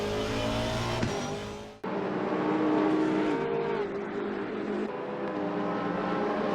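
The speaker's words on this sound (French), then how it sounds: "Néanmoins, les tours s'enchaînent pour la Vantage 418." An Aston Martin Vantage race car laps in a sim racing game, its engine droning loud and steady with a brief drop near the start before the revs climb back and hold.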